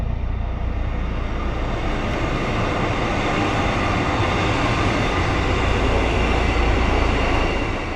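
A Melbourne Lilydale line train passing through a railway cutting near Mont Albert, a loud continuous rumble and wheel roar that stays steady and close for the whole stretch, with no talking.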